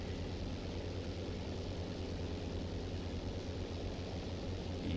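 A steady, droning engine roar from a P-38 coming in to land on a runway in the Aerofly FS 4 flight simulator, constant and fairly loud with broadband wind-like noise throughout and no speech.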